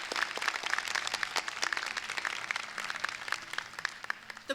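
Crowd applause at a university convocation for a brass ensemble with horn, trombone and tuba, many overlapping claps forming a continuous roomy patter that thins slightly toward the end.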